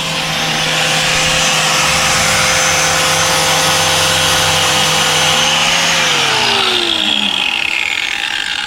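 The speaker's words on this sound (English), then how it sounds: "so he's gonna have to grind it down because we can't use the studs" Power grinder cutting down a bolt near the intake manifold of a turbo Sierra truck, a loud continuous abrasive whine with a steady motor tone that drops in pitch toward the end as it spins down.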